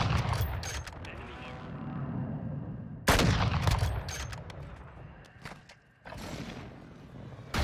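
Sniper gunfire in the Warzone video game, sharp loud shots with long echoing tails near the start, at three seconds and around six seconds, over game ambience.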